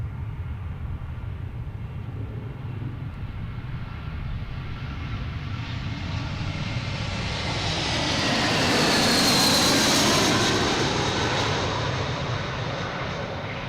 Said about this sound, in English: JetBlue coming from Bozeman.